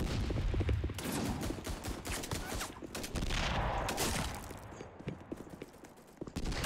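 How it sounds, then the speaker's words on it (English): Rapid bursts of FG-42 rifle fire in a Roblox shooting game, dense, loud and continuous shots through most of the stretch, thinning into a few scattered cracks near the end. "The FG-42. One of the strongest non-Game Pass weapons."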